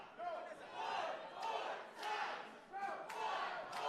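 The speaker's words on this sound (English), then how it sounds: "Crowd chanting one more time here." A wrestling-show crowd chants in rhythmic, repeated surges, several swelling group shouts following one another at a steady pace, heard from within the arena and fairly distant.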